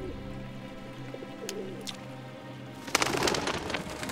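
Pigeons coo by the shallow water of a river where catfish hunt them, soft low calls against a faint background, then a sudden burst of rushing, splashy noise near the end.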